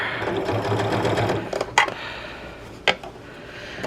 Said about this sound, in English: we're just going to edge stitch this first and then fold it over